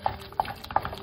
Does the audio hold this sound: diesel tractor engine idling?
no